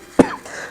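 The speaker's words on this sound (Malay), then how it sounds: "Saya mohon maaf sekiranya dalam video ni bunyi batuk dan sebagainya" A single short, rough cough, close and fairly quiet, with faint room noise after.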